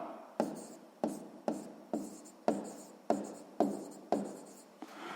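Pen or pencil writing an answer by hand on paper in a sixth-grade maths exercise, close scratchy strokes repeating in a steady rhythm of about eight bursts, alone with no talk.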